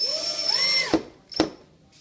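A power drill whines briefly, rising in pitch, then stops with two short knocks as a roman shade bracket is mounted inside a wooden window jamb, close and alone.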